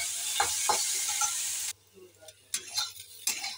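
Beans, carrot, chopped garlic and chilli fry over high gas in a pan, first as a bright, steady sizzle with stirring knocks, then the hiss drops away, leaving scattered spatula clacks and scrapes.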